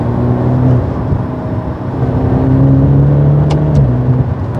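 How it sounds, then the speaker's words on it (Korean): Four-cylinder mild-hybrid engine of a Maserati Ghibli GT sports sedan under paddle shifting: a steady, loud engine drone that swells and settles, with a couple of brief sharp transients near the end. "이렇게 패드시프트 조작하면서 이렇게 팡 소리가 나죠, 4기통 치고."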